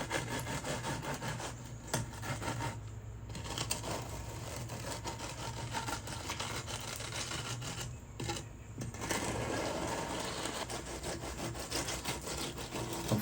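A scrap piece of PVC smooths wet concrete in a bench-top mold, giving a continuous faint rubbing scrape with short pauses and no talk.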